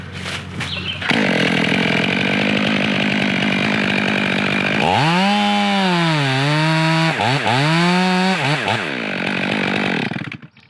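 A chainsaw cutting the face and bottom cuts of a felling notch in a standing tree, loud and close, its engine droning continuously with pitch dips and surges as the chain bites into the wood, with no talking.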